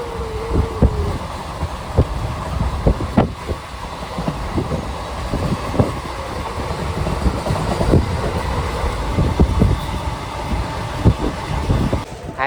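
A delayed passenger train, the Madgaon to Nagpur service, runs on rails near Igatpuri station with a steady loud rumble and scattered clicks and clanks of the wheels. The sound is heard from close by, with no voices.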